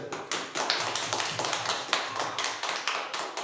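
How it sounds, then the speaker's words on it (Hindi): A church congregation claps together in a steady, fast rhythm, the dense sharp claps continuing for a few seconds at full loudness with no talking over them. "इसके लिए एक बार ताली बजा देते।"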